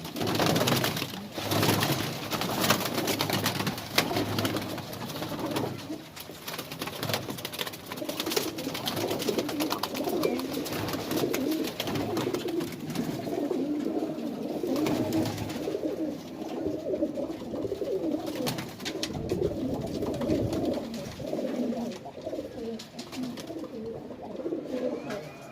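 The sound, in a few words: Madrasi pigeons cooing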